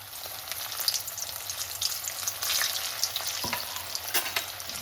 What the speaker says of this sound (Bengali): এখন এখানে আমি একটা কড়াতে তেল বসিয়ে দিয়েছি, সানফ্লাওয়ার তেল। তেলটাও গরম হয়ে গেছে। এখন আমি একটা করে কাটলেট দিয়ে দিচ্ছি।